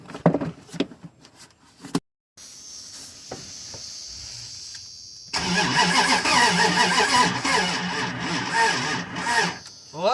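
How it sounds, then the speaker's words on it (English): A high-mileage old half-ton pickup cranks with a whirring starter, catches, and settles into a loud, rough idle close by, after a few clanks and a brief pause. "Unless this engine has got some resistance in it."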